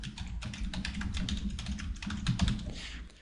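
Rapid, continuous keystrokes on a computer keyboard while text is entered in a design program, with close, crisp clicks and a few heavier taps near the end.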